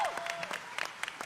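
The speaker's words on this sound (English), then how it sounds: "let's clap for love and joy" Scattered hand claps from a small audience at a BlizzCon 2017 panel, a short burst of clapping that stays fairly light and uneven throughout.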